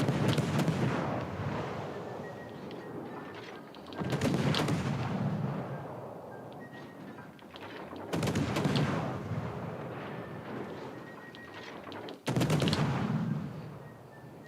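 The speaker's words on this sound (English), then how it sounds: "Oh, he did fire his guns." Warship main guns in World of Warships: Legends booming in four heavy, widely spaced salvos, each a loud blast trailing off into a long rumble.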